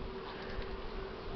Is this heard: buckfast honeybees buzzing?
yes